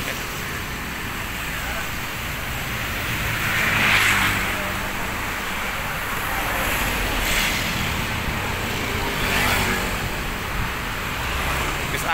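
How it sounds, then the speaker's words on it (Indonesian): ALS 311 bus with a Mercedes-Benz OH1526 engine and Rahayu Sentosa Skyliner body driving on the road to Medan, heard as a steady broadband rumble of engine and road noise with a few swelling hisses. "Bis ALS Novin 311 bermesin Mercedes-Benz OH1526 berkaroseri Rahayu Sentosa Skyliner."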